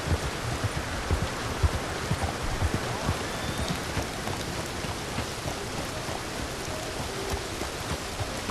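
Steady rain pours down in the open-world game Red Dead Redemption 2, a dense, even hiss of drops on surfaces filling the whole stretch at moderate level, with no talking over it.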